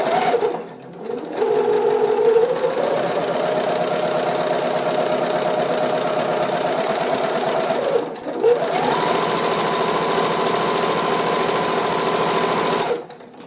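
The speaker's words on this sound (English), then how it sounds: "This is why I use a sewing machine for this bit" A sewing machine stitching a stretched seam on a knit Joni dress, with a steady rapid mechanical whir running close and continuous, briefly pausing and restarting twice between long runs.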